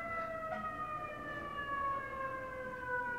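Emergency vehicle sirens passing outside wail with a slowly falling pitch, faint and distant, steady across the moment with no talk over them.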